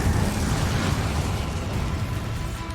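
Incendio fire spell cast in the video game Hogwarts Legacy, a loud dense whooshing roar of flame that stays full and steady for a few seconds, alone with no talking.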